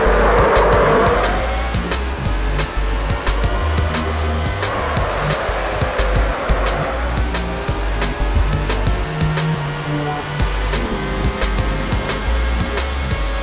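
A race car engine in the N64 game F1 World Grand Prix 2 screams continuously at high revs, with tire squeal and skidding woven through a loud, dense, unbroken roar.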